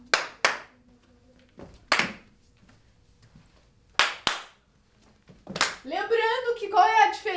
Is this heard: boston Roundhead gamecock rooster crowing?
no